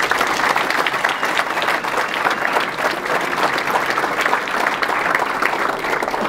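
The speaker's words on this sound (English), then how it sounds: "How about a round of applause for our senior class?" Guests at a university baseball first pitch dinner applaud the senior class with dense, sustained clapping from a large room, even and unbroken throughout.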